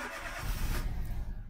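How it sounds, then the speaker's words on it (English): A 2011 Toyota Aygo 1.0L with a misfire, freshly fitted with swapped spark plugs and coil pack, cranks and catches in a short close burst of starter whir rising into a running engine. "I'm going to start the car."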